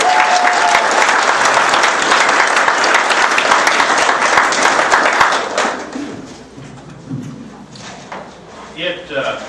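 Loud, dense applause from a crowd at a Tea Party political event fills the first six seconds, then fades into scattered claps and murmuring.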